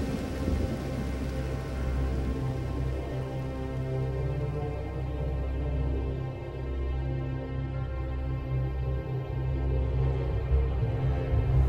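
Steady rain pours down outdoors in a tarantula habitat, a dense, continuous hiss of drops striking surfaces that holds at an even loudness with low rumbling underneath and no voices.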